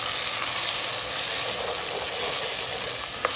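Browned onions sizzle steadily in hot oil in a pan while mutter paneer is being cooked, a dense continuous hiss with faint crackles and no voices.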